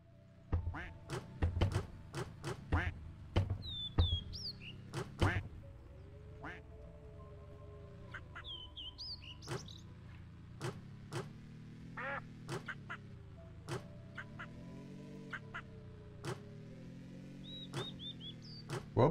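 A motorbike in the driving game Park Up Car makes repeated duck quacks over a low engine hum. Sharp clicks and thuds punctuate the sound, and someone talks over it intermittently.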